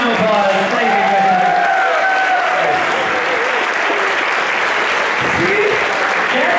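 Loud, sustained applause from a large crowd fills the space, steady throughout with a few cheers mixed in.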